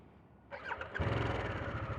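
A Harley-Davidson Sportster S motorcycle engine is started: the starter whirs briefly, then the engine catches and settles into a loud, steady, close rumble.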